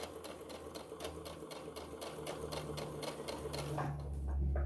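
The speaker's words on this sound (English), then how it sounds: "We're just stitching on each edge." A sewing machine stitches along the edges of a tote bag, running in a fast, steady mechanical rhythm of needle strokes before the motor shifts into a slightly deeper whir near the end, close and clear with no talk.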